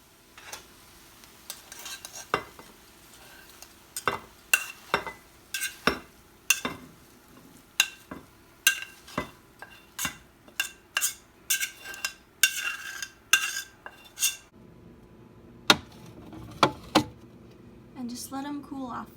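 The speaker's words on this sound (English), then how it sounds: "Here I have 10 eggs in a pan. I'm going to scramble them up" Ten eggs being scrambled in a pan: a steady run of sharp utensil clacks and scrapes against the pan over a soft sizzle, coming every half-second or so in an uneven rhythm, close up.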